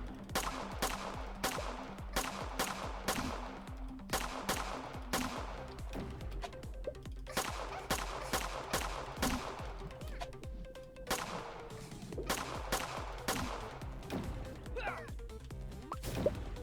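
Rapid, repeated gunfire bursts from the office shooter game The After Hours: Office Predators, loud and rhythmic with short pauses between volleys and a few impacts mixed in.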